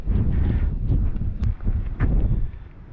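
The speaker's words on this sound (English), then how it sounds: "it's windy" Wind buffets a microphone near a coastal lighthouse in England with a heavy low rumble in bursts and gusts, loud and close, with no voices.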